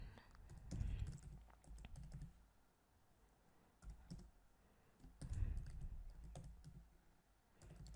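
Soft, quiet keystrokes patter in irregular bursts with short pauses on a computer keyboard while a Word document is filled in during a lecture recording; the clicks are close but faint.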